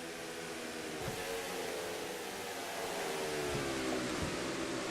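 A stock car in a sim racing game drives past during a Food City 250 race in the NRSL Mello Yello Series, its steady engine drone joined by a faint swelling whoosh.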